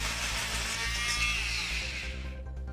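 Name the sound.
Bosch PMF 250 CES multi-tool cutting a nail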